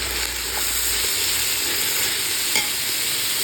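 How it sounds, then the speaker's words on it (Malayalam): Onions and tomatoes sauté in a pan for a home-style fish roast, making a steady close sizzle and hiss with a faint stir or clink partway through. "നമ്മുടെ സവോള വഴന്നുകൊണ്ടിരിക്കുകയാണ്"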